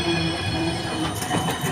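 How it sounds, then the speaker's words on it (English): Trams running at Amsterdam Centraal Station make a loud, close rumble with wheel squeal and rail clatter, continuous throughout. "these are the trams that are taking you around"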